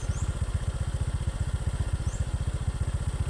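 Honda Vario 125 FI scooter engine idling a little high, a steady, even low putter with rapid regular pulses, close and continuous with no voices.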